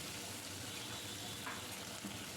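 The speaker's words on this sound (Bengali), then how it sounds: "আমি তেলের উপর দিয়ে শুটকিগুলো এই সময় ভেজে নেব" Dried fish (shutki) frying in hot oil, a steady, close hiss and crackle of sizzling that holds evenly throughout with no talk.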